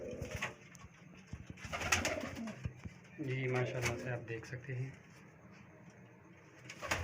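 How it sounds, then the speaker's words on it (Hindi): Pigeons kept in a loft coo in low, soft, rolling bursts, loudest in the middle stretch, while someone speaks over them and some faint rustling and knocking comes from nearby. "ये सारे पकड़ के कबूतर हैं, सब के सब मैंने पकड़े हैं"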